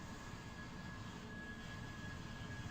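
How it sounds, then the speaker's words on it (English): Distant airplanes taking off in the video game Train Simulator 2017, a faint steady jet roar with a thin high whine that holds evenly throughout. "Also, you can hear the airplanes taking off."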